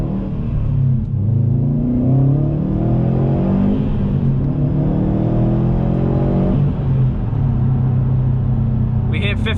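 A brand-new 2020 Subaru STI in sport sharp mode accelerating at full throttle, a loud, close engine roar rising in pitch through the gears, heard from inside the car.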